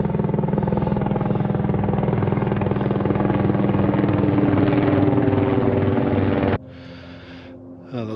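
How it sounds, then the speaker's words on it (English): A search helicopter flying over steep mountain slopes in the An Teallach area of Scotland gives a loud, steady rotor thump and engine roar, then drops away suddenly, leaving a faint background. "We've got the chopper over there searching along the slopes of the first Munro there."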